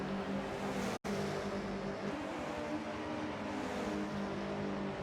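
Rallycross race cars at a national championship round, a continuous broad engine roar with layered harmonics from the track, steady and fairly loud, with one brief dropout early on and no voices over it.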